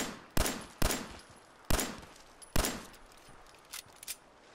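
Gunshots in the Fallout 4 video game: four loud, sharp reports spaced about half a second to a second apart, then two fainter, quicker shots trailing off.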